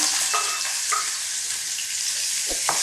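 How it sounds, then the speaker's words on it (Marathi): Chopped onion frying in hot oil with cumin seeds, a steady broadband sizzle with a few faint scrapes and clicks from stirring, close and even throughout, with no voices. "असं चांगलं परतून घ्यायचं प्याजला"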